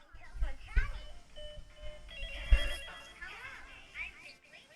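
A Telephone Tammy toy phone rings with electronic chimes and tones, mid-loud, over voices talking and other bursty noise.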